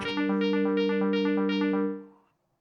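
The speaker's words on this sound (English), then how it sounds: "now I put the arpeggiator on it because it's a chord" A synthesizer arpeggiates a chord, repeating quick bright notes in a steady pattern over a sustained tone, then fading out.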